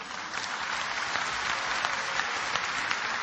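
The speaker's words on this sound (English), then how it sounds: "MashaAllah, you're clapping." Lecture audience clapping during a talk on religion, a dense, steady wash of many hands at moderate level, continuous for a few seconds with no voices.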